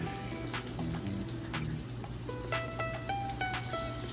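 Shrimp frying in a pan for Mexican shrimp tacos with cilantro, a steady soft sizzle with faint crackles and a few light clinks, quiet and without speech.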